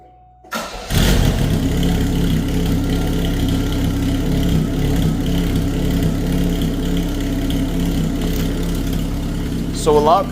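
A Pontiac Sunbird engine starts and settles into a steady, loud idle through a trimmed muffler, running continuously close by with a brief rev near the end.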